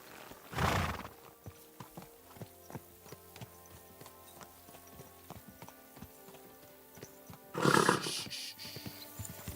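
Horse in Kingdom Come Deliverance 2 gives two loud neighs, one early and one near the end, between a steady run of clip-clopping hoof steps on the ground.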